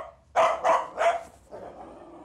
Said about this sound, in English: So he's barking his head off